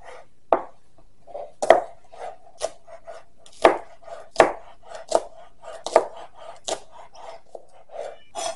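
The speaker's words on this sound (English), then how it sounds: "Now we just need to chop the spring onions to garnish." A knife chopping spring onions on a cutting board, a dozen or so distinct close thuds at an uneven pace with soft rustling between strokes, no talk.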